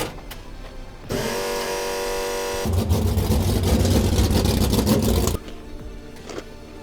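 A Ford Ranger truck engine drones steadily at Chuckwalla Raceway, jumping louder as it accelerates mid-run, then cutting back to a quieter idle-like rumble near the end, heard alone.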